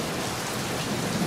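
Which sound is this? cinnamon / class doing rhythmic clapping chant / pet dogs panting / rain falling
rain falling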